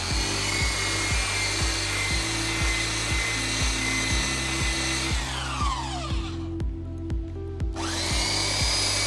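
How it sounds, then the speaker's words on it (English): Belt sander fitted with 40 grit sandpaper grinding a wooden window frame, a loud steady whine with rhythmic pulsing that winds down and stops, then starts up again. "I'm using a belt sander with a 40 grit sandpaper on it"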